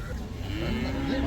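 Buffalo at a cattle market gives a low drawn-out moo that rises midway, heard amid a busy background of market noise and nearby chatter.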